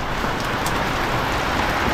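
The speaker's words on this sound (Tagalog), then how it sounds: "Ay, umuulan na." Rain starts falling beside a house, making a loud, dense, unbroken hiss that fills the whole moment with a steady wash of drops and no other distinct sounds.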